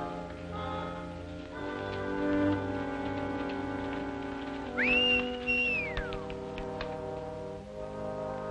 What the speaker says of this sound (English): Whistling for that horse.